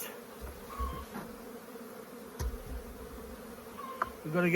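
Honeybees buzz around an opened hive while it is split into two colonies, a steady close droning hum with a few louder passes near the end and no talking.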